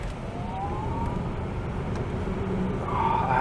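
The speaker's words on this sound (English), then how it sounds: "Oh, I love that motor sound." A Lucid electric car accelerates with a steady, loud whirring road and motor hum, joined by a faint rising whine, close and continuous.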